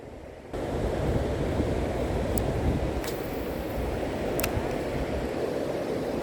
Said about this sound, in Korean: 바람이 너무 세져가지고 하늘에 먹구름도 있고